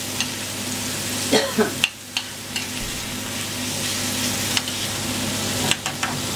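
Fish fries gently in a pan for a Peruvian-style fish dish, a steady sizzle broken by a few sharp utensil scrapes and taps as it is moved around.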